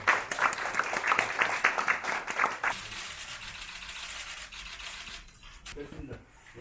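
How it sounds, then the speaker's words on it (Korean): Audience applause at a signing ceremony for a football club cooperation agreement: a dense burst of clapping fills the first few seconds, then fades into quieter room sounds and scattered faint claps. "뜨거운 박수로 환영해 주시기 바랍니다."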